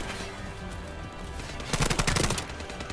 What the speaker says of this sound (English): This gun has recoil, but it doesn't matter. You can just hip fire.